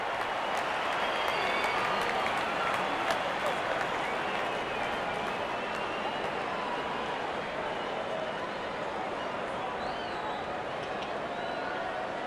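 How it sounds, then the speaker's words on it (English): Stadium crowd at an India vs England T20 cricket match applauds a batsman reaching fifty, with sustained, dense clapping and cheering that carries on steadily throughout, with a commentator talking over it. "good innings, and gets a grand applause. The crowd is enjoying every bit of this action."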